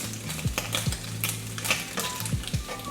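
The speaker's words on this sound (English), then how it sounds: "I like to turn my bacon maybe like 5-6 times while I'm cooking it" Bacon sizzles steadily in a hot pan as it is turned over, with a constant crackling hiss and a few soft metallic clinks from the utensil against the pan. No one speaks.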